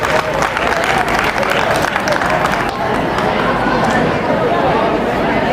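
Loud, continuous applause from an audience at a school program, heavy clapping mixed with crowd chatter and voices throughout.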